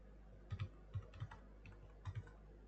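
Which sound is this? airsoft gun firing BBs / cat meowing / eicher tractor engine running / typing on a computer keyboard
typing on a computer keyboard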